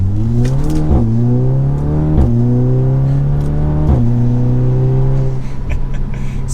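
A performance car fitted with a Pedal Commander throttle controller revs and accelerates hard, its engine note climbing through several gears with brief dips at each shift, loud and close, with no talking.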